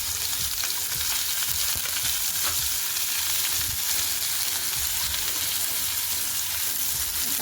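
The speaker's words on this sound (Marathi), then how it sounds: "छान तडतडला तर त्याच्यामध्ये कांदा टाकून घ्यायचा आहे आपल्याला." Chopped onion fries in hot oil in a pan with a dense, continuous sizzle and crackle up close. Occasional stirring scrapes come through, and no voices are heard.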